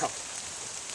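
Rain falls on the ground outdoors, a soft continuous hiss running through the full second at low level with no one speaking.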